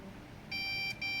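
A Lenovo IdeaPad laptop, just repaired for a no-display, overheating CPU fault, gives a steady high electronic beep on power-up, briefly interrupted once, over a soft background hiss.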